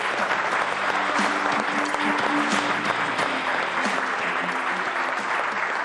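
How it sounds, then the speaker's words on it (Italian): Applause from an audience at a youth football school event, a steady wash of many hands clapping at moderate volume for several seconds, with no talking over it. "Buon applauso."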